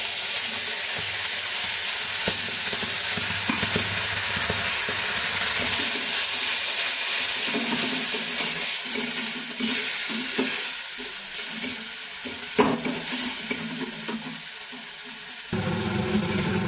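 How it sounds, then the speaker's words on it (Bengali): Onion paste frying in a pan, a loud, steady hiss and sizzle running throughout with occasional stirring scrapes and a brief clatter near the end, close up and without speech. "পেঁয়াজটা ভালো করে ভেজে নিতে হবে, যাতে পেঁয়াজের কোনো কাঁচা গন্ধটা না থাকে।"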